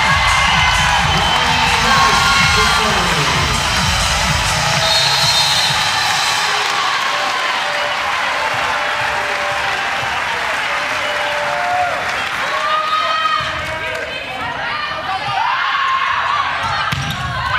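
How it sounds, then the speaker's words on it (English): Arena crowd at an NCAA women's volleyball match between Kansas and Miami cheering and applauding loudly, roaring at first and then settling into scattered whoops and shouts, with a commentator talking throughout. "The Horace crowd on its feet."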